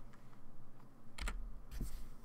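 Typing on a computer keyboard, quiet and close, with a few scattered soft key clicks and two brief clustered bursts of keystrokes over faint background hum.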